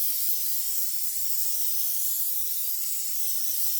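A continuous, loud hiss from an aerosol can of fixative spraying nearby, steady for several seconds with no talking.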